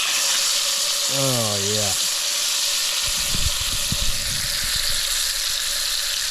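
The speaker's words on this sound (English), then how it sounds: "We're gonna give our trout a flip here." Trout frying in a pan at a riverside camp, with a steady loud sizzle that bursts briefly as the fish is flipped, while someone speaks a couple of words over it.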